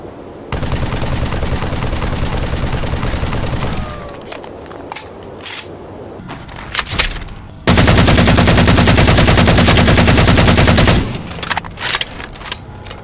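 Two long bursts of rapid automatic assault rifle fire in Halo 4, loud and close, separated by a quieter stretch of sparse shots and clatter.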